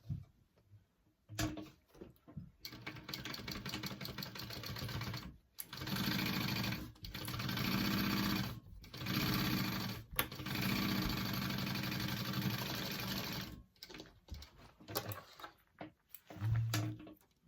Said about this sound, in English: sew that at a 1/4 inch seam allowance, just like you did the other side